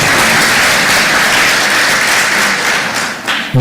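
A crowd claps steadily at a Magereza DT SACCO savers workshop, loud and continuous, easing off near the end before a brief thump.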